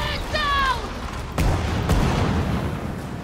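Ship cannons in the Skull and Bones pirate game fire two heavy booms a moment apart, loud and close, after a short shout.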